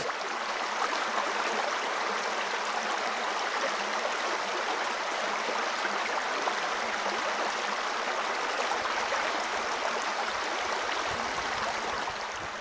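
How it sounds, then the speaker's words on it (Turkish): The Kangal waterfall near Soğukpınar pours in a steady, dense rush of falling water, a broad unbroken roar that holds evenly throughout with no voices. "Ressamın fırçasından çıkan sanat eseri gibi yaz ve kış büyük ilgi gören şelale"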